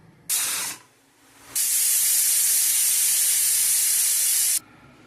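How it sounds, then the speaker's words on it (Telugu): A pressure cooker cooking dal releases steam with a short hissing whistle, falls briefly quiet, then blasts a long loud continuous hiss for about three seconds before cutting off. "4 విజిల్స్ వచ్చే వరకు ఉడికించుకోవాలి."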